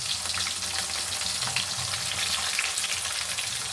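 Chopped tomato frying in a pan while cooking a potato and chicken curry, a steady close hiss and sizzle running evenly without a break, with no talk.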